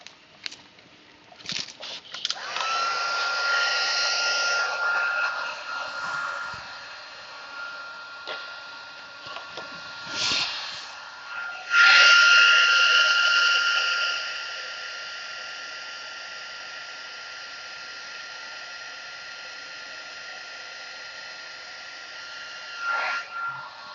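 A heat tool blows hot air over a craft card for double or triple heat embossing, a steady whirring hiss that starts, runs for long stretches, briefly gets louder, then cuts off, heard up close.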